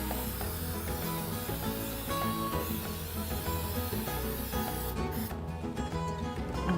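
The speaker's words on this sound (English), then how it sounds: "we're going to take our muffin tin and we're going to spray our muffin tin with some" Cooking spray hisses steadily into a muffin tin, a close, continuous spray lasting several seconds and cutting off near the end.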